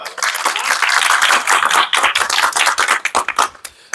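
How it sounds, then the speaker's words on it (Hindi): Children clapping their hands at a family gathering in a home, a fast, busy burst of claps that breaks into scattered, uneven claps toward the end. "ताली बजाओ।"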